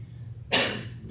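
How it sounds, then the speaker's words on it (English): A single sharp cough bursts out near a microphone during a talk at a Sunday service, brief and loud, breaking an otherwise quiet stretch. "I don't need to cough right into the microphone."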